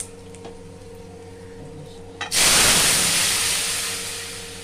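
Dried red chillies hit hot oil with mustard seeds for a rasam tempering, bursting into a loud, broad sizzle after a quiet moment and then slowly fading while still hissing steadily up close.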